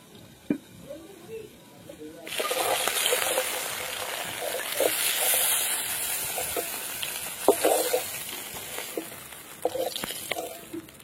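Eggplant pieces frying in hot oil, a steady loud sizzle that starts abruptly and holds, with occasional pops and utensil clinks.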